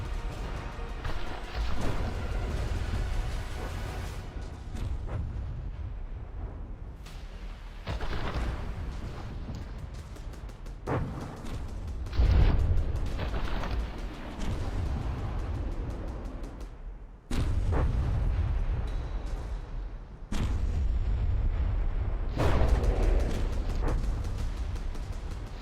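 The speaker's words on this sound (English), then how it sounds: "another big hit. It looks like the frontal APS was taken out. Explosion of blocks" Block-built warships trading fire in the naval combat game From the Depths, heavy booming explosions and crashing impacts piling into a loud, dense roar that keeps surging over the whole stretch.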